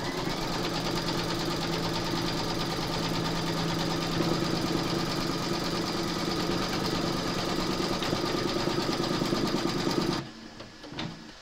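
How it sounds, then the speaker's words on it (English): An embroidery machine stitches the third quilting round on a remembrance quilt panel, a loud, continuous rapid whirring hum that runs without a break, then cuts off abruptly near the end. "You're now going to stitch round number three, and that's going to secure the fabric and then quilt it"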